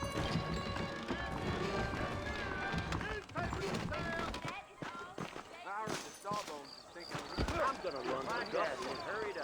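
Rhythmic hoof clip-clops and clattering of saddled horses in the Red Dead Redemption game soundscape, with voices talking over the steady plodding.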